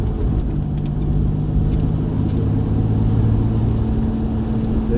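Jaguar E-Type V12 engine heard from inside while driving, a steady deep rumble with a low drone that holds fairly constant rather than climbing sharply, no voices over it.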